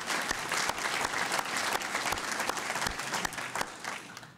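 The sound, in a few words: audience applause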